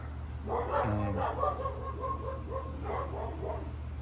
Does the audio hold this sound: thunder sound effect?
no